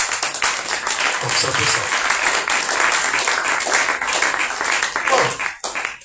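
A church congregation at a commemorative conference bursts into loud, sustained applause that fills the whole stretch, while a voice speaks over the clapping before it thins near the end.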